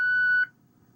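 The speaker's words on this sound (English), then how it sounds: "The system will sound 1 long beep, indicating that you have canceled the alarm." An Interlogix Concord Express security alarm panel gives one steady, clear electronic beep lasting under half a second, then falls silent.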